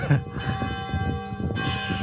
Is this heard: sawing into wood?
no